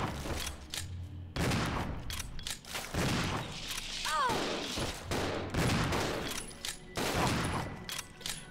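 Shotgun fire at a giant spider in Resident Evil 0: repeated heavy booming shots spread over several seconds amid game noise, with a shrill creature cry in the middle.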